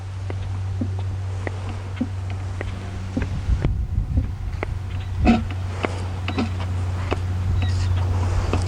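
Oil being pumped out of a Sea-Doo Rotax 4-stroke engine, heard as a steady low hum with irregular throbbing pulses and scattered faint knocks and clicks.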